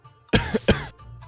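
A man gives a deliberate fake cough, performed by a narrating voice as two short, sharp, close bursts in quick succession, followed by faint breathy traces.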